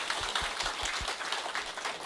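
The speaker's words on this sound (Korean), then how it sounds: "박수 한번 주시죠" Applause from an audience at a business presentation, a dense steady wash of many hands clapping at moderate level with no talk over it.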